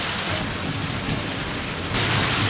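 Heavy rain pours down during a thunderstorm at sea aboard a sailing boat, a steady close hiss of drops on surfaces that swells slightly louder toward the end, with no talking.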